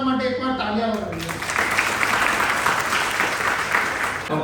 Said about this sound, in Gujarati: તમારા બધા પોતાના માટે એકવાર તાળીઓ વગાડો